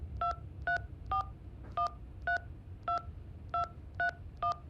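Phone keypad tones beep one after another, about ten evenly spaced presses, clear and close, as a number is dialed in the hitchhiking video game Hitch Hiker over a quiet low hum.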